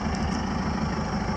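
A mini motorhome's engine idles as a steady low rumble and vibration, constant and close, while the vehicle rests partway up a series of small hills, with no talking.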